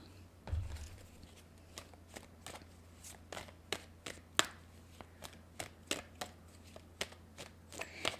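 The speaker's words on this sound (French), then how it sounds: "Je vais clarifier ces belles cartes avec des tarots." Tarot cards being shuffled in quick, crisp riffles and taps, a dozen or so sharp close bursts at an uneven rhythm over a quiet low hum.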